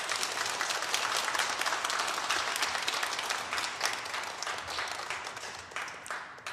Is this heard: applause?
yes